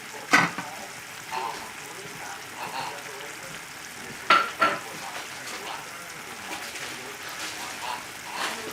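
Scallions sizzle in a hot frying pan with a soft continuous crackle, broken by a few sharp clinks and stirring scrapes.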